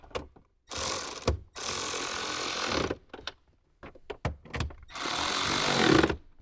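A ratchet tightens bolts on a Toyota 4Runner car radio during a subwoofer and amplifier install, with long, loud, close bursts of rapid ratcheting clicks broken by brief pauses and a few short mechanical knocks, and no voices.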